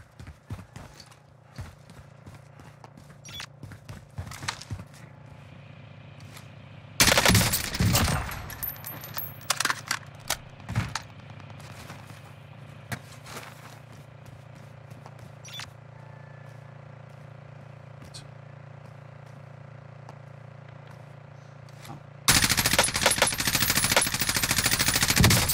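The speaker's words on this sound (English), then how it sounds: "Bullets are being fired this way." Automatic rifle fire from a Warzone firefight bursts out in dense, loud volleys, with a longer sustained barrage in the middle and another near the end, separated by sparser distant shots and game ambience.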